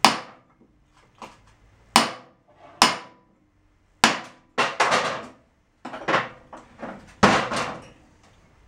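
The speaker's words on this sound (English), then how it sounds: "Need a bigger hammer." Heavy hammer blows on a Toyota Tundra rear differential during a teardown, about a dozen sharp metallic strikes in irregular bursts, some single and some in quick doubles, close and loud with no talk.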